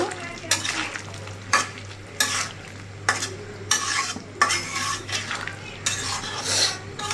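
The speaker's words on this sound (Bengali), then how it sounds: "সিম দিয়ে আবার একটু কষিয়ে নিব।" Tengra fish curry with flat beans is sautéed in a pan, a spatula scraping and clanking in repeated bursts over a continuous low sizzle and a steady background hum, close up and without voices.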